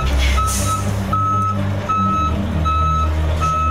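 An Eddie Stobart articulated truck backs up with a steady, evenly spaced reversing beeper over a loud, close diesel rumble, a brief air hiss near the start.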